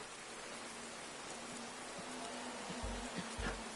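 Rain falls at a GT3 race track as a steady, faint hiss of broadband patter, with a low hum and a few soft thuds near the end.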